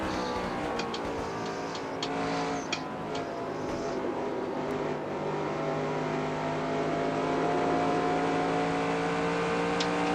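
A stock car engine in NASCAR Racing 2003 holds a steady high-revving drone at Las Vegas, loud and continuous throughout with a few faint ticks over it and no voices.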